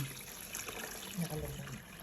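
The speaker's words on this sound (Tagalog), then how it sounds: "So ibubuhos na po namin dito yung tubig." Water is poured over eggs in a container to make salted eggs, giving a short, close, steady trickling and splashing.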